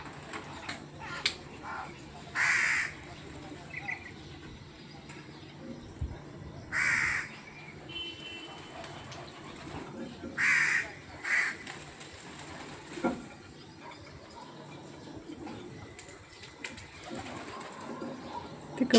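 Crows being fed give several loud caws in short bursts, mixed with soft pigeon cooing and rustling in the background, with a few quiet spoken words between the calls.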